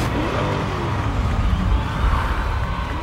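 A 2020 Chevrolet Corvette Stingray mid-engine car roars steadily at its unveiling ceremony, a thick, loud engine rumble that holds for a few seconds with no speech.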